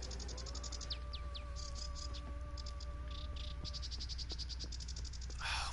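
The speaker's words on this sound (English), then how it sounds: "Oh, birds." Birds chirp and twitter steadily in The Witcher 3 game world, with a run of quick repeated high calls over a constant insect-like buzz and a sustained whistling tone, moderately loud and unbroken.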